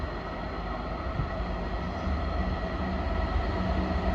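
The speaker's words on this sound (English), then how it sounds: "we'll also have some diverted freight trains that are down through here" A diverted freight train rumbles past in North Staffordshire, a continuous heavy low drone of wagons rolling on rails, fairly loud and steady with no voices.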